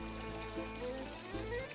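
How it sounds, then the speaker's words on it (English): Garden grotto waterfalls cascading down a hill into a pond, a steady, moderately quiet rush of flowing and splashing water throughout. "a cool and comforting grotto that begins the journey down the hill in a series of waterfalls to a pond"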